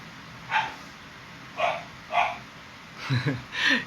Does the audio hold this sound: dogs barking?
yes